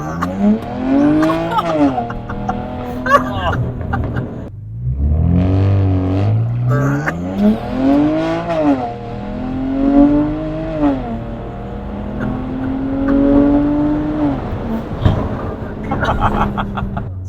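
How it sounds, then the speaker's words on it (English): A BMW 335xi launches hard from a standstill, its engine note climbing through several rising sweeps as it accelerates, heard close from inside the car with occasional voices over the engine. "Let's see if we can find a spot back here where we can do a little launch."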